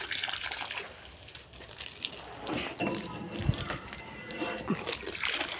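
Water poured and splashing unevenly onto soil and leaves, with sloshes and drips while someone talks nearby.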